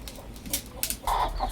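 Chickens cluck in short bursts, a few soft calls and then a louder run of clucking near the end, with background noise throughout.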